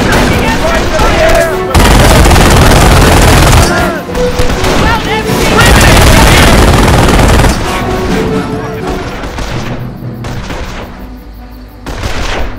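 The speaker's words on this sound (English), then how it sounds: "Taking MG fire!" Machine gun fire in the video game Company of Heroes, rapid loud bursts mixed with booming explosions and battle noise, with shouted voices over the din before it thins out.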